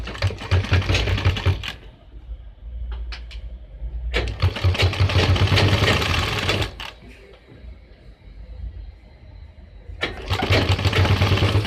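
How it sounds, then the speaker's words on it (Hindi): Sewing machine stitching a strip onto a suit collar (angrakha-style neck), running in several close, steady bursts of mechanical whirring separated by short pauses. "और पट्टी के ऊपर लब की सिलाई लगाएंगे।"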